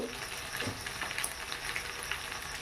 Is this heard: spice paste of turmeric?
yes